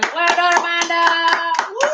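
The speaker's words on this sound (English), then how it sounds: "Can we give a round of applause to Amanda Watson?" Applause rings out for Amanda Watson, a quiz winner at a live event, with rhythmic claps beneath a cheering voice calling out congratulations.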